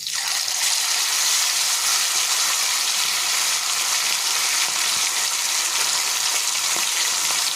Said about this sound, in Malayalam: അപ്പോൾ നമ്മൾ ചിക്കൻ പീസ് ഓരോന്നായിട്ട് നമുക്കിനി ഈ തിളച്ച വെളിച്ചെണ്ണയിലേക്ക് ഇട്ട് കൊടുക്കാം